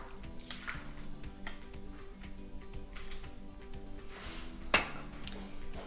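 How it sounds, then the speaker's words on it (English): A metal ladle clinks and scrapes against a crock pot while scooping bean soup, with soft sloshing and one sharper clank near the end, close by with no talking. "I'm going to scoop the soup out of my crock pot."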